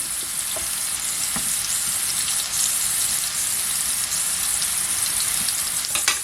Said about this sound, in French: on va les aplatir pour qu'elles soient un peu toutes dans le beurre